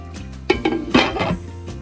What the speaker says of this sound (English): It's time to shred this up and eat.